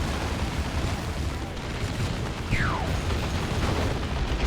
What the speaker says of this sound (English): Lots of fire grenades and stuff.